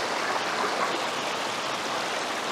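Steady rushing current of a river at an overnight moto campsite in Mayantoc, a continuous, fairly close broadband wash with no pauses and no voices.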